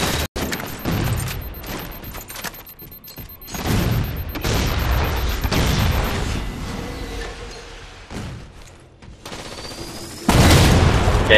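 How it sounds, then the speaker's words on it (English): A railgun shot in the Halo 4 multiplayer map Haven rings out amid continuous gunfire and booming explosions, with a loud heavy blast near the end. "easy railgun kill there"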